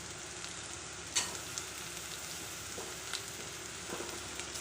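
Ginger garlic paste sautéing with golden-brown onions in a pan for a crab gravy, a steady soft sizzle throughout with a few light clinks of stirring.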